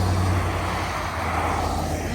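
Road traffic on a cold, snowy Canadian road near the mountains, a steady broadband rumble of passing vehicles at moderate distance with no clear individual pass-by.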